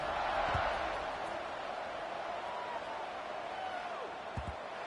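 A stadium crowd in the Madden American football video game buzzes steadily in a broad, distant roar after a score, with a couple of faint thumps and no clear talk over it.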